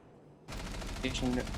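A burst of rapid, dense gunfire in the video game Rainbow Six Siege starts abruptly and keeps rattling in quick overlapping shots.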